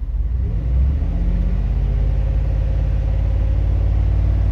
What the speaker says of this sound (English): Now watch when I rev it up just a little bit.